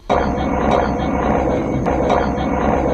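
An FARDC combat helicopter in action: a loud, continuous rotor roar with rhythmic thumping pulses, close and steady throughout.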